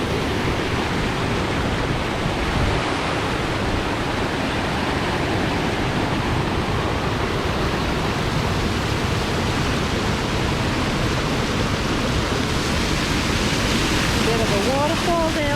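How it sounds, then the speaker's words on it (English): Waterfall at the Sam Creek swimming hole in Cape York, Australia, a constant broadband rush of falling water that holds steady throughout. "Waterfall down there."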